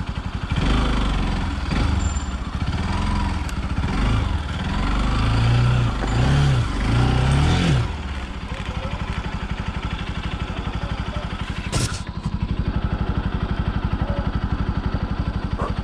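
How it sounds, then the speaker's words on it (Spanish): A motorcycle engine runs close by, revving in uneven bursts before settling into a steady, rough idle. "Nos sube la moto, ahí viene Luca Rescate."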